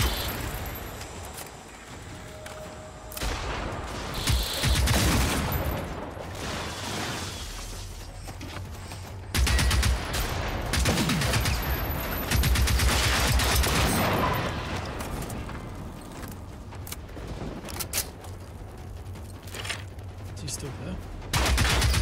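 Near-constant gunfire from an infinite-ammo weapon in the video game Generation Zero, loud dense bursts and rapid shots running almost without pause, with a voice speaking now and then under the shooting.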